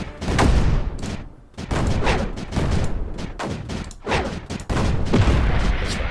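Mortar units in the Creeper World 4 game fire in a series of loud booming bursts, several heavy blasts in close succession with short gaps between them.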